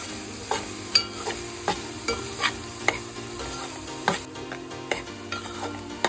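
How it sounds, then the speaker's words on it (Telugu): Cabbage and moong dal frying in oil in a pan, with a steady close sizzle and a run of sharp scrapes and clinks from stirring at a regular pace, no voices. "2 మినిట్స్ అట్లా ఆయిల్లో ఫ్రై చేసుకోవాలి క్యాబేజ్ని, పెసరపప్పుని కలిపి."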